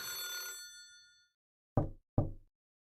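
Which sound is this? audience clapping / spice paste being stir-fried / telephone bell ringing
telephone bell ringing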